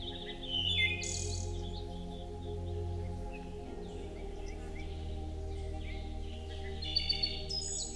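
Birds chirp and tweet in scattered bursts over a steady low drone of soft music, a calm evening scene with the birds settling into branches after a day of flight.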